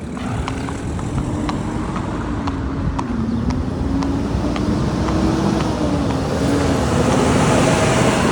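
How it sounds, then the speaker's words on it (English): Steady road traffic on a main road, car engines idling and creeping in a queue close behind a horse being hacked out, a continuous near rumble with occasional ticking clicks over it and no talk. "I've got a row of traffic sat behind me"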